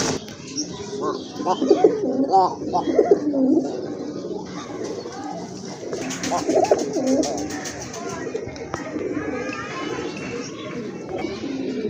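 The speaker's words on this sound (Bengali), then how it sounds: "এই যে দেখেন আরেক জোড়া কবুতর" Pigeons coo in low, throaty bursts close by, with chirps and background chatter mixed in throughout.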